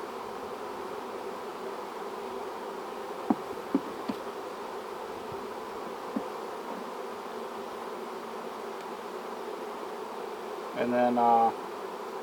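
Honey bees hum steadily around a hive just split to receive a new queen, a continuous low drone with a few faint knocks, and a voice briefly speaks near the end.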